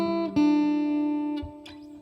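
An electric guitar plays a short riff, two sustained notes ringing in turn with a soft pick attack between them, heard alone.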